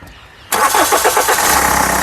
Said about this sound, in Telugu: ఇంజన్ స్టార్టింగ్ కూడా సింగిల్ సెల్ఫ్లో కార్ స్టార్ట్ అవుతుంది